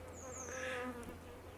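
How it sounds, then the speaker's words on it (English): A bee buzzes right up close, a steady, droning hum with slight wavering pitch that holds through the whole brief moment. "There's a bee trying to get up close and personal with my"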